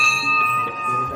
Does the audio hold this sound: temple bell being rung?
yes